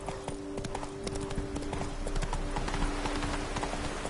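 The horse Roach clip-clops steadily along in The Witcher 3, its hooves knocking in an even rhythm over a sustained musical tone and ambient background, close and continuous.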